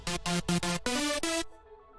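A bright, buzzy synth plays a quick series of stacked chords in short rhythmic stabs, ending on a held chord that cuts off abruptly.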